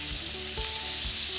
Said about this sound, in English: Like the sizzle, don't you?